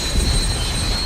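Train wheels squealing in the video game Dead Space 2, a continuous high metallic screech over low rumbling rail noise, loud and sustained with no voices.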